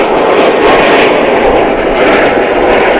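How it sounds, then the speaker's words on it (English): The Finnair Airbus A380 from Helsinki arrives at DFW International Airport, a loud, steady jet rumble that holds without a break through the whole short moment. "And here comes the Finnair flight from Helsinki. It's an Airbus A380,"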